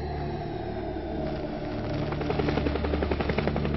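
A squadron of helicopters flies in formation, a loud, steady rotor rumble that grows into a rapid rhythmic chopping of blades toward the end.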